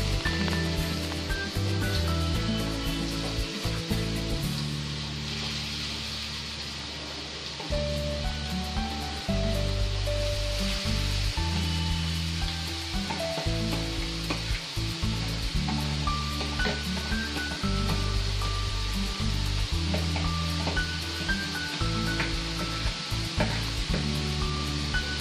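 Grated carrots sizzle steadily in melted ghee for gajar halwa, a loud, continuous frying hiss with low rhythmic scraping or stirring thumps running throughout.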